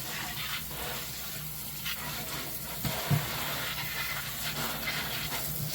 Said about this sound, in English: you want to rinse most of what you can off.